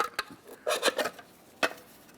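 Small pry bar working a center cover off a 2004-2008 Ford F-150 rear wheel, faint scraping and a few light metallic clicks and taps, close up and quiet, with a sharper single tick near the end.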